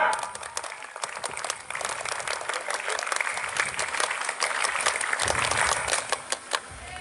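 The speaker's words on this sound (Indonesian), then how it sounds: "Dua kali tepuk pramuka." At a scout camp opening ceremony, a large group performs the patterned scout clap in unison, with sharp, rhythmic bursts of synchronized hand claps repeated over several seconds and some voices mixed in.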